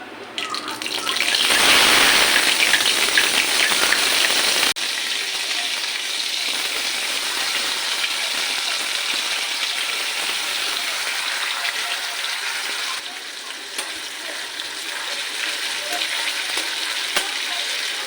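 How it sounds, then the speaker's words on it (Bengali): Spice paste for mochar ghonto frying in a pan while being stirred, a loud continuous sizzle that flares up early and then settles into a steady hiss with occasional scraping. "মশলাটা দিয়ে ভালো করে আমি কষিয়ে নেব"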